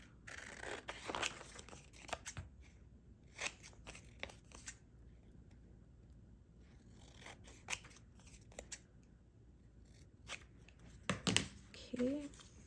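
Scissors snip through paper while cutting out a floral and bunny ephemera piece for a craft project, a few close, crisp bursts scattered across quiet stretches, with soft handling rustle in between.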